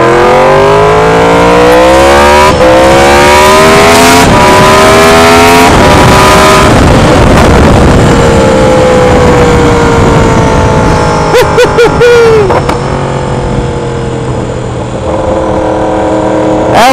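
A 2016 Yamaha R1 motorcycle fitted with an aftermarket exhaust revs hard and loud nearby, its engine pitch climbing in repeated sweeping surges, with no talk over it.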